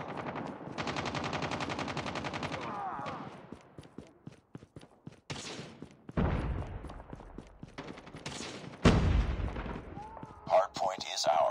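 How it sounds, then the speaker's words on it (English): Rapid automatic gunfire rattles in Call of Duty Mobile from a deployed sentry gun, a sustained burst followed by scattered shots and louder blasts, with game voice callouts over the action. "Sentry gun deployed."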